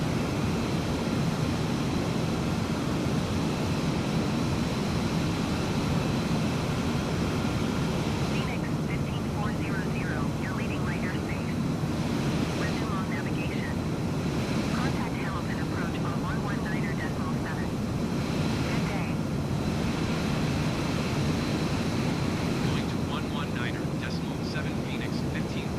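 Steady, loud jet engine roar of an F-35C Lightning in Microsoft Flight Simulator, a continuous broadband rush with no breaks, while someone talks over it intermittently.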